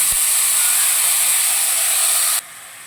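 Bengali spice paste hitting hot oil in a pan with dried chilli and bay leaf, a loud, bright, steady sizzle close by that suddenly drops to a quieter hiss near the end.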